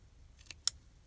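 Two quick, crisp scissor snips close by, the second sharper, in an otherwise quiet room.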